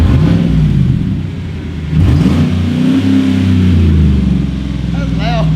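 A 2016 GMC Yukon with a muffler delete and a 2/4 drop revs hard, giving a loud, deep rumble with a sharp climb partway through, close up.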